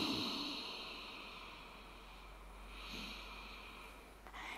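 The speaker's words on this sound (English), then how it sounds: "you're kind of moving it through your throat in a way that's like making the sound of a roar" Ujjayi breathing, a slow breath drawn through the throat with the lips closed, makes a soft, faint, raspy rush that swells and fades over several seconds against a low background hum.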